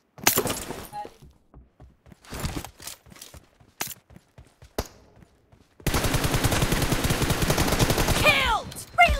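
Video game gunfire: scattered single shots and short bursts, then a sustained loud automatic stream near the end, close and punchy with little talk.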